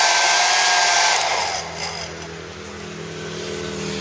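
An electric heater runs off a small homemade power generator, giving a loud continuous blowing whir with a steady motor hum that dips slightly in pitch partway through, then holds.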